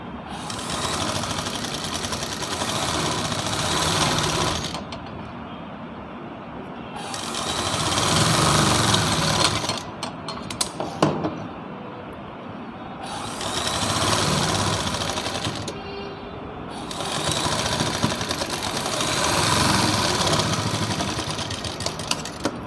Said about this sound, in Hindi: आराम से सिलाई लगानी है, सिलाई का ध्यान रखना है इधर उधर ना जाए।